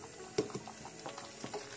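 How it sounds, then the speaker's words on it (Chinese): Bone and peanut soup boils quietly in a pot, with soft intermittent bubbling and a few small pops over a low, steady simmer. "再次开大火，把汤汁煮得浓香一些"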